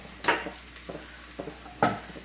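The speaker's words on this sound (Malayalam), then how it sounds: "ഉള്ളി നന്നായിട്ട് ഫ്രൈ ആയിട്ട് വന്നിട്ടുണ്ട്" Onions fry in a pan under a low, constant sizzle, and a few distinct stirring scrapes and clinks from a utensil sound up close.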